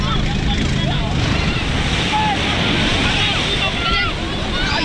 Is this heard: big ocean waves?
yes